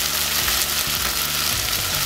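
Steady, loud sizzling of chicken pieces browning in hot olive oil, continuous crackle throughout with a low hum underneath.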